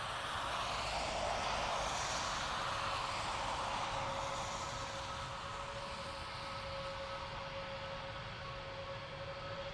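Airbus A320neo departing for Reykjavik: a steady, broad engine roar with a sustained whine, constant in loudness over several seconds, heard from a distance with no one talking.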